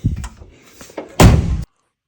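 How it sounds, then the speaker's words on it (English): The door of a 1964 Ford Galaxie swung open into an obstruction, giving a heavy dull thunk after some lighter knocks and rustles, close and loud, then sudden silence. "It's hitting right here. Can't open the door all the way."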